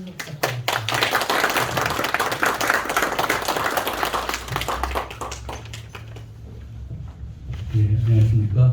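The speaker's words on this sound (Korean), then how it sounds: "박수로 환영 부탁드립니다" Applause from an audience at a Korean theatre award ceremony welcoming the host, a dense burst of many hands clapping that swells and then thins out, with a voice speaking over the tail end.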